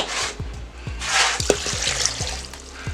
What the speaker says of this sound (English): just 2 cups of water.